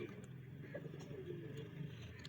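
Pigeons at a pet house coo softly in faint, low rolling calls heard close in a quiet room, with some background murmur.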